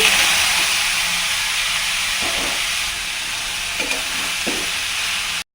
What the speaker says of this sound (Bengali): কড়াইটা বসিয়ে দিয়েছি দিয়েছি কালো জিরে ফোড়ন এবার এটা ঢেলে দেবো